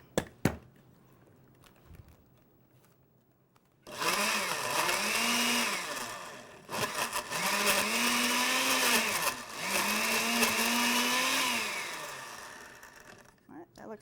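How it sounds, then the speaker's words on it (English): A blender whirs through cookie mix in several loud pulses, its motor pitch dipping and rising between bursts, with short pauses and faint clicks between runs. "now we're going to add our cookie mix. I'm going to blend it up"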